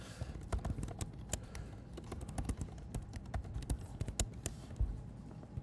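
Keys on a computer keyboard clatter in quick irregular bursts of sharp clicks, close and fairly quiet, with no talk over them.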